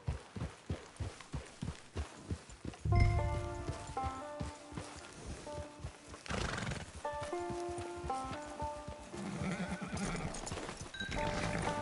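Horse hooves in the Red Dead Redemption 2 video game: a steady galloping clip-clop close up, then a loud whinny and continued hoofbeats under a soft musical score.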